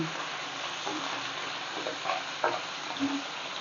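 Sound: frying hilsa fish pieces and heads

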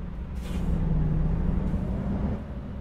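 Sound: roadworks noise in American Truck Simulator video game

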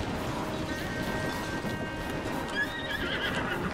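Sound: horse neighing and hooves in Zelda: Tears of the Kingdom video game

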